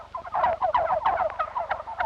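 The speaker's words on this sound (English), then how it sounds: "Listen to them gobble." Young bronze tom turkeys gobble on a farm, several birds calling in quick overlapping rattling bursts at close range, with no talk.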